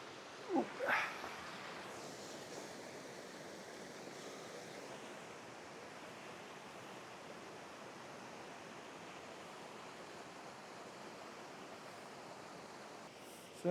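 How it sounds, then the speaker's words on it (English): Steady rushing of water flowing through a wet limestone stream bed, a constant broadband wash heard close by, with a couple of brief knocks near the start. "plenty of water running through here"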